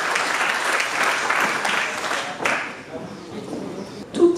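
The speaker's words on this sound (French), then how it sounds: "Merci de vous applaudir chaudement." An audience at a business event applauds warmly, loud and sustained at first, then thinning out as a voice begins to speak over the last moments.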